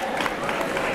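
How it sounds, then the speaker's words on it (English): A birthday-party audience in Finland applauds as a guest takes her seat: a brief, moderately faint patter of many hands clapping together. "Let's clap for her while she takes her seat."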